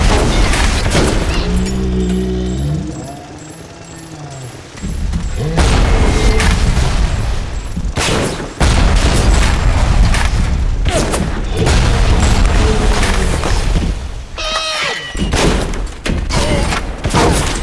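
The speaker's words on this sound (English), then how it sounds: "It'll be perfect if I can just let my buddy the RPG turret." RPG turret firing explosive rockets in Bioshock, a rapid series of loud booming blasts and heavy thuds over sustained gunfire, close and dense, with a brief lull before the barrage resumes.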